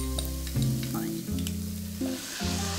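Tomato paste fries in a hot pan with small diced vegetables as the base of a fish stew, a steady close sizzle with occasional stirring scrapes and no voices.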